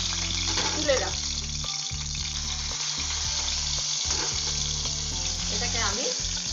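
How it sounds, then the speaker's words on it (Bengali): A fish head frying in a pan gives a loud, close, continuous sizzle with bursts of crackle and a faint watery hiss beneath, while a voice talks over it. "আমার যতটুকু মাছটা ভাজা দরকার ভাজা হয়ে গেছে"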